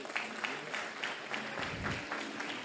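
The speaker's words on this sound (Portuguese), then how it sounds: "Aplaude a Deus por isso." A church congregation claps in rhythmic bursts during a Portuguese-language sermon, quick repeated applause filling the room as a preacher's voice carries over it.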